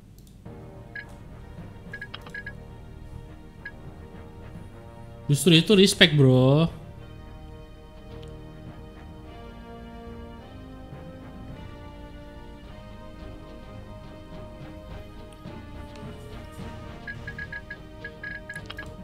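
A phone call rings out with a loud electronic ringtone lasting just over a second partway through, while people talk casually in a room before and after it.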